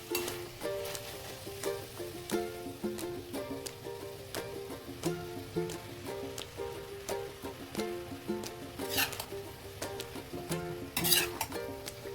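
Veg fried rice is stirred in a pan, a steady soft sizzle of frying under repeated spatula scrapes and taps on the metal, close and fairly quiet, with a couple of brighter clatters near the end.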